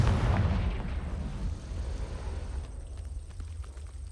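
A Confringo fire spell explosion in Hogwarts Legacy: one heavy, booming blast at the start that rumbles and fades over a few seconds into a low, hissing tail.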